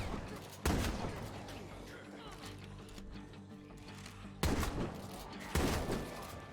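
Shotgun fire in the zombie survival game State of Decay 2 comes as a few sharp, booming blasts spaced seconds apart, with rumbling echoes trailing each shot.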